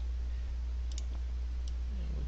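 A computer mouse clicks during a Photoshop session, a few faint, sharp ticks including a quick double click, over steady low hum and background hiss.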